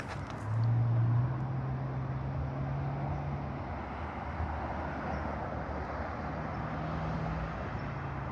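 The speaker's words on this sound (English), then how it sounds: "I'm actually gonna be quiet so you can hear the noise of Coldwater" Outdoor ambience in Coldwater Canyon on an overcast day, a steady low hum of distant traffic with a faint passing vehicle drone, no one speaking.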